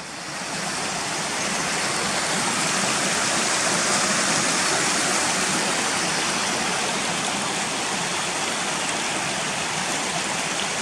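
A Yorkshire Dales stream near Gunnerside runs past a large debris catcher, a loud, steady broadband rush of water that holds unbroken throughout, close by and with no voices.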